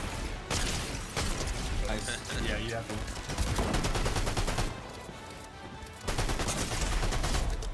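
Rapid SMG fire in Fortnite ranked play, dense bursts of gunshots running almost continuously with brief gaps, mixed with game effects and players talking over it.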